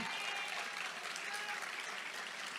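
A church congregation applauds together, a steady and dense wash of clapping that holds throughout without breaks, heard at moderate distance with no talking over it.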